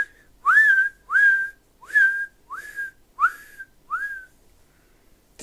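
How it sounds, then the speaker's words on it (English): Six loud, short whistles, each swooping upward and then held briefly, repeat at an even pace with short pauses between them. "So Joe stood beneath the thick green leaves of the old oak and whistled"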